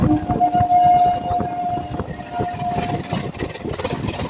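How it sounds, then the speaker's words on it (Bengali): A Lalgola EMU local train bound for Sealdah approaches, sounding a sustained horn over a low rumble and rhythmic rattling of wheels on the track, loud and close, with no voices. "ওই যে সামনে দিয়ে ছুটে আসছে লালগোলা এমও লোকাল ট্রেনটি এখন যাচ্ছে শিয়ালদাহর দিকে"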